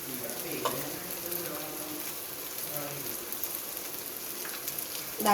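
Soft, steady sizzle of onions sautéing in a pan, with occasional faint stirring scrapes and a louder clatter at the end.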